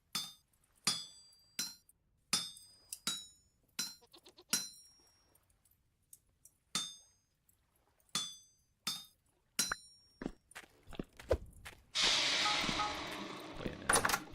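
Metal hammering on an anvil while forging chains in the survival game Vintage Story: a steady series of sharp, ringing clangs, about one each half second to second, close and loud, ending in a burst of broader crackling noise.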